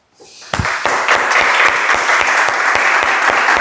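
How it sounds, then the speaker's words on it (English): Warm applause breaks out from an audience at a literary and music event, swelling within half a second into loud, sustained clapping with distinct individual claps punctuating the steady wash. "Let's welcome Jack with a warm applause."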